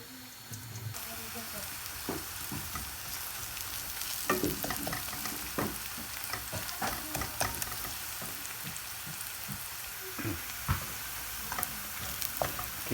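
Rice sizzles in a hot pan while being stirred until brown, a steady fry hiss broken by irregular scraping and clattering strokes, with a voice speaking at points.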